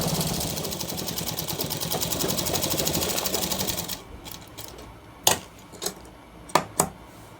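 An electric sewing machine stitching a shirt seam runs in a fast, steady rhythmic whir close by, then stops, followed by a few sharp clicks and taps of handling.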